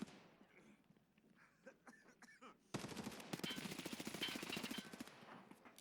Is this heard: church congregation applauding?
no